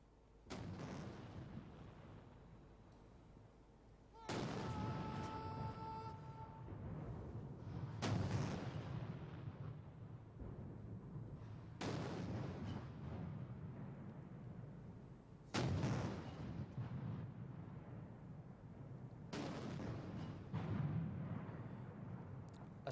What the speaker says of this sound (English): A 70-gun salute, one for each of the 70 years since the war was won.